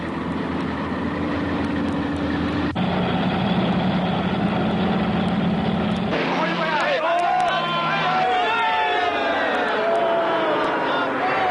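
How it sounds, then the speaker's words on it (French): A race vehicle's engine runs loudly and continuously, labouring and shifting pitch in abrupt steps, then breaking into warbling, uneven tones as it struggles in the second half. "Oh non, le moteur va nous lâcher."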